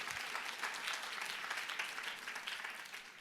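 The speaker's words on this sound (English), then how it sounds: "big round of applause." A lecture audience at a 2017 ANP conference gives a big round of applause, a dense, even wash of many hands clapping that stays steady and moderately loud throughout, fading slightly toward the end, with no talking over it.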